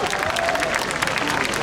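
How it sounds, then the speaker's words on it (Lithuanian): One side of a grandstand crowd at a Midsummer (Joninės) festival in Elektrėnai claps together in a dense, steady burst of applause, with a voice faintly audible underneath. "dabar lai ploja tik tais, man yra dešinė, jums yra kairė pusė"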